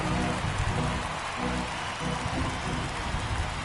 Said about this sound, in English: we're going into a rain delay, and I have a feeling this is going to be a long break, Singy. It is really coming down